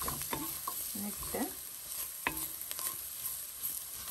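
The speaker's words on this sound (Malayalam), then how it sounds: "കൊടമ്പുളിയായിട്ടൊന്ന് നമുക്ക് മിക്സ് ചെയ്തെടുക്കാം" Spoon stirring a simmering fish curry with coconut milk and kudampuli (garcinia) in a pan, soft scraping strokes over a faint sizzle, close and fairly quiet with no voices.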